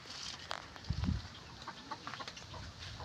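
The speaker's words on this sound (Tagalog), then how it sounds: "yung alaga nating manok dito na" A pet chicken clucks softly near a bird loft and breeder cages, with a low burst of clucking followed by scattered quieter clucks over faint background noise.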